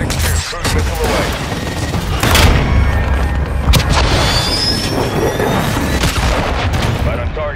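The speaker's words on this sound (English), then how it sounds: "Cruise missile away." A cruise missile strike in Call of Duty: Modern Warfare II sets off loud, continuous rumbling booms and crackling blasts that fill the whole stretch, with battle noise dense around them.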